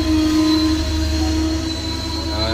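Sawantwadi–LTT Ganpati festival special passenger train pulling into a station, a loud continuous rumble with high-pitched wheel squeal ringing over it as the coaches roll past close by.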